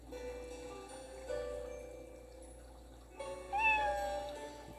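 A cat meows in the video game Another Eden, a few short, clear meows rising near the end over faint background music and a soft ticking.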